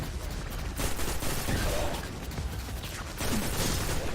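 Rapid gunfire inside the video game Destiny 2, dense overlapping bursts of shots crackling for several seconds at steady loudness, with no talk over them.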